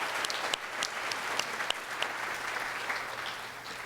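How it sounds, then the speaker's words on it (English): An audience at a high school senior awards ceremony claps in honor of graduating students, a steady wash of applause with sharper individual claps popping out, sustained and evenly loud without speech. "let's give them all a round of applause to honor them"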